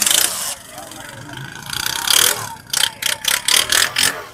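A used motorcycle engine at a bike market runs and is revved, with a rough mechanical clatter swelling into a series of rhythmic bursts, alongside nearby talk.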